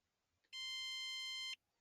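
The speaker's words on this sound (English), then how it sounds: "you'll hear a long beep and a flashing asterisk to let you know that the pin pad's deactivated." A car pin pad on a pool car gives a single long, clear electronic beep lasting about a second, loud and steady against a quiet background.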